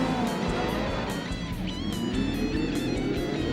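Speedcar engines straining as the field launches off the start at Sydney Speedway, a steady dense roar of several motors with a loud, continuous wash of engine noise throughout, no pauses.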